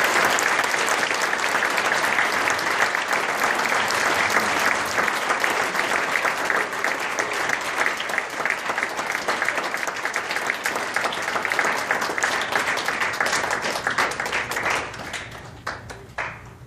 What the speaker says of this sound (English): Please applaud Nate Damstra.